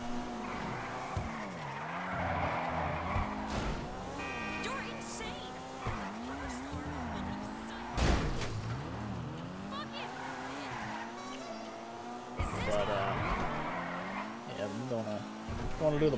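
Maibatsu Penumbra FF drifting in GTA Online, its engine whining through rising and falling revs while tires skid and squeal in long sweeps, loud and continuous, with occasional impacts and someone talking over it.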